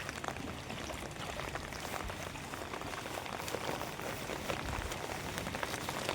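Heavy rain pours down in Khammam onto a rooftop terrace that is filling with water. The downpour is a dense, steady hiss with no let-up, loud and close, and no voices are heard.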